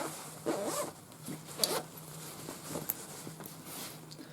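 A zipper on a sateen sewn garment being handled, with short rasping zip pulls and soft fabric rustles in separate bursts, fairly quiet and close, with no talking.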